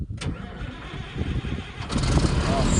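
An engine cranks and catches, a sharp transient near the start followed by a steady mid-frequency running rumble that grows louder and settles into a close idle.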